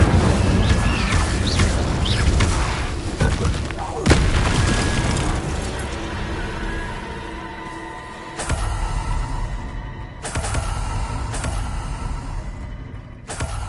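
Incendio fire spell cast in Hogwarts Legacy, heard as several heavy whooshing booms spread over a dense, continuous game soundscape, with sharp bursts hitting at roughly regular intervals.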